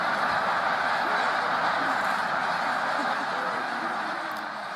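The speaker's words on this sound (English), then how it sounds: "there are snow geese, tundra swans, and Canada geese currently around." Snow geese, tundra swans and Canada geese in migration at Middle Creek Wildlife Preserve, a dense distant chorus of overlapping honks forming a continuous wash of flock noise.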